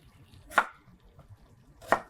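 A knife chops potatoes and brinjal on a board in a kitchen. Two sharp, isolated chops land about a second apart and stand out clearly against a quiet background.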